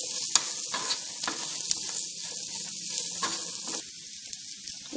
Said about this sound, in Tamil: இப்போ நம்ம வெச்சிருந்த சீனி புளிங்காய் இத ஆட் பண்ணிரலாம் இது நல்லா ஃப்ரை ஆகட்டும்